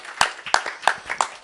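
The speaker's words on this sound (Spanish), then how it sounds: "Un aplauso, por favor." Audience applause at the end of a talk on soundscape and acoustic ecology: a few sharp, evenly spaced claps about a third of a second apart, moderately loud and close, with no other voices.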